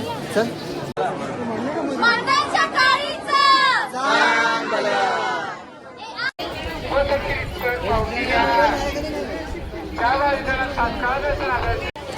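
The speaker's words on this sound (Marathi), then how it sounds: "खूप गर्दी आहे इकडे" A dense crowd of people at a temple, steady loud chatter and overlapping voices throughout with a brief dip midway.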